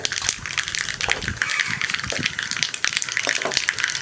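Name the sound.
mustard and fenugreek seeds sizzling in hot coconut oil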